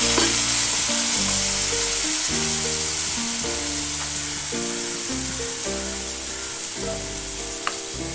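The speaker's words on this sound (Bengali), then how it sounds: "হলুদের গুঁড়ো দিলাম, একটু জল দিয়ে দিচ্ছি, নাহলে মশলাটা পুড়ে যাবে" Turmeric and cumin spice paste sizzles in a hot pan after a splash of water is added, a loud steady hiss running throughout with faint scraping strokes underneath.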